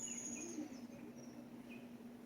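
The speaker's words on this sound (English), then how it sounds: "More birds." Birds chirp intermittently outdoors, with thin high calls scattered over a steady low hum and faint insect-like buzzing in the background; the calls are soft and fairly distant.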